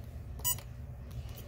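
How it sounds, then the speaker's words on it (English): A heat press timer used for a heat-transfer-paper shirt gives a short electronic beep, a single brief tone over a low steady hum, with no talking. "Now I did my timer for 30 seconds"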